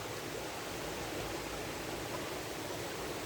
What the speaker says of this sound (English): Can you see those beautiful, fabulous waterfalls?